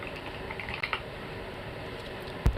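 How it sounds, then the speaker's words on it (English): Light, quick taps on a computer keyboard patter softly in a quiet room, a few scattered clicks with one sharper knock near the end, no voices. "Hear those little pitter-patters of that keyboard."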